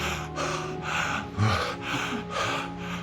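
A voice imitates the laboured, rasping breathing of a dying person, with repeated gasping, snort-like breaths in a steady rhythm, close and fairly loud, with no other talk.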